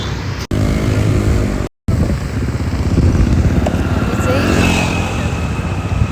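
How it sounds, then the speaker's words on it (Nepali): Scooters and other vehicles pass nearby on a road, engines droning and rising, with a brief dropout partway through. "गाडी आउँदैछ यहाँनिर, स्कुटरहरू रोड क्रस पनि गरिसक्यौँ"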